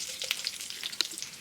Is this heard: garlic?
yes